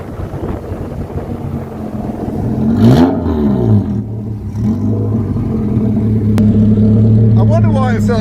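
Loud Honda B16A2-engined track car revving close by at a classic car show, engine drone rising and falling with a sharp rev swell around the middle, wind rumble throughout, people talking over it.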